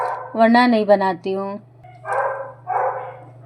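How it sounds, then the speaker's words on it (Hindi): Dogs bark outside a family home while a pet dog joins in with a quick run of high, yelping barks, followed by someone talking over the quieter background. "क्योंकि बाहर ना और जो कुत्ते भौंक रहे हैं"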